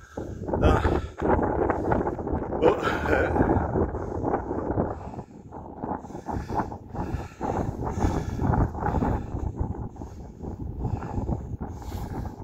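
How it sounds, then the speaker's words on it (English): Strong, gusty wind buffets the microphone on Cley Hill near Warminster during an evening walk, a loud continuous rumbling roar with surges and brief dips, no voices heard. "the wind's dropped a little bit now, it's not too bad"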